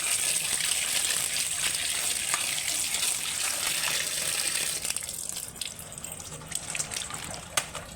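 Pointed gourds being washed with water in a bowl: a close, steady splashing and rushing of water that thins out toward the end into scattered drips and light knocks.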